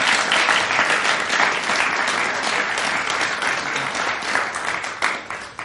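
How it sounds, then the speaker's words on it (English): Audience at a symposium's closing session, held in a Second Life virtual conference, applauds the speakers with steady, dense clapping that fills the whole stretch at even volume before thinning slightly at the end. "So if we could give a round of applause to both those speakers as well."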